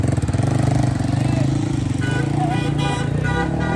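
Sport motorcycle exhaust, a Yamaha R15 V4 built up to resemble a Kawasaki ZX-10R, running close by with a loud, steady, throbbing engine note that pulses slightly and eases off toward the end.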